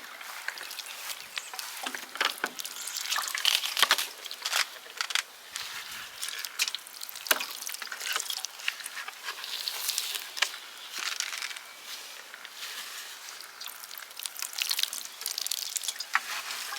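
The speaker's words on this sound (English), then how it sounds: "I'm going to go ahead and water it a little bit with our rainwater" Rainwater is poured over freshly sown seeds in a winter-sowing container, giving a light, uneven patter and trickle of water hitting soil and plastic, bright and close, in irregular bursts for the whole stretch.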